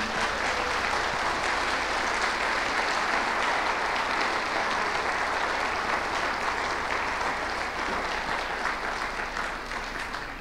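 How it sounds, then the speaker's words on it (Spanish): A church congregation at Restauración BDF in Coacalco claps in steady, sustained applause of welcome, loud and unbroken throughout with no talk over it. "te mandamos un aplauso de bienvenida"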